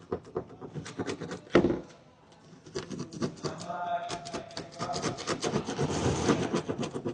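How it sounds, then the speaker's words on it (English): A plastic scraper drags excess silicone sealant off a caravan roof in close, repeated rasping strokes, uneven rubbing scrapes with a brief pause before the steady scraping resumes. "we're going to use this plastic scraper and come along and just get that majority of that extra shit off"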